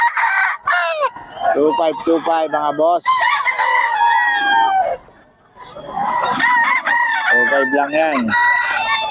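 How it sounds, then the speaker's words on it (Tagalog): Chickens and roosters at a busy poultry sale crow loudly and cluck up close, with long overlapping calls and a brief lull midway. People talk over the birds. "Oh, ang gulo ng manok."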